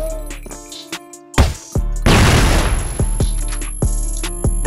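Gunfire in the CrossFire online shooter: sharp, loud single shots crack at uneven intervals, with one dense, roaring burst of rapid fire in the middle.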